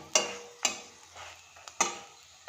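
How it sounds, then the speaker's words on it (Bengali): Methi paratha cooking on a pan with a little oil, a faint sizzle punctuated by three or four distinct spatula clinks and scrapes against the pan, near and fairly quiet. "ওই একইভাবে পরোটাগুলোকে আমি ভেজে নেব।"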